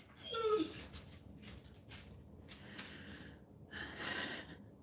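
A dog named Kana whimpers and snorts with breathy gasps at close range, a high yelping whine near the start and softer whimpers trailing off, with no talk.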